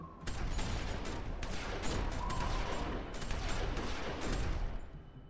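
Rapid gunfire in The Walking Dead video game, a dense, continuous volley of overlapping shots with sharp cracks rising above a steady roar for several seconds.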